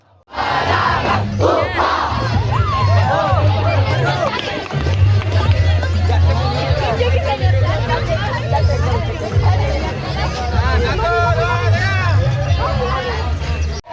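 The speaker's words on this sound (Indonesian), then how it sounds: "mereka bersorak dan memberi tepuk tangan meriah kepada 70 anggota Paskibraka" A crowd at an Indonesian Independence Day flag ceremony for the Paskibraka flag-raising troop cheers, shouts and claps loudly and continuously, with excited voices, calls and babble layered over the clapping.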